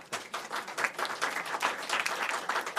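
Audience applause at a Virginia legislative announcement event on LGBTQ protections, a steady dense clapping from a crowd that continues throughout at moderate loudness, with no talk over it.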